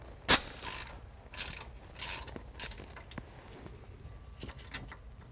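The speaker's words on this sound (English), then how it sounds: "Remove the bolt holding the factory soft line to the frame." Ratchet wrench removing the bolt that holds the factory soft brake line to the frame on a Jeep Wrangler: several bursts of fast clicking, close by, with a sharp metallic clink at the start.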